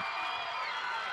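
A crowd of fans cheers at a 1985 high school basketball tournament game in a gym, a dense, steady roar of voices with no break, heard from a distance.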